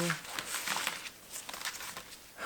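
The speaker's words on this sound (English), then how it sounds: "I'm just shuffling them as I usually do" Tarot cards being shuffled by hand, giving a steady run of soft papery riffles and crinkly flicks at close range, with no talking over them.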